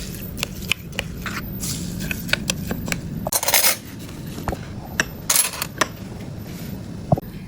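A spoon stirs a sago pearl dessert (Thai-style nona manis) in a container, with repeated light clinks and scrapes against the side, close and fairly quiet, plus a couple of louder rattling bursts.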